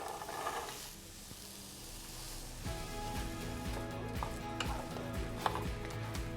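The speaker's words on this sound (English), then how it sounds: "I'll suggest to fry it on high heat for around 15-20 minutes until you're satisfied with the texture of the onions and the grounds" Onions and vegan grounds fry in vegan butter and oil in a pan with a soft steady sizzle, while a utensil stirs and scrapes with intermittent clacks close by.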